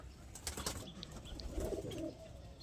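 Two male pigeons, a Madras and a Kaldom, coo softly at close range, with low burbling notes rising near the end over faint rustling and brief wing movement.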